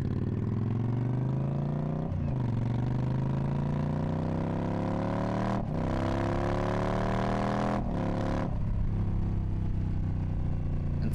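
An Indian Scout Bobber motorcycle engine accelerating, its loud continuous drone climbing steadily in pitch through several gear changes with brief dips between them, heard up close while riding.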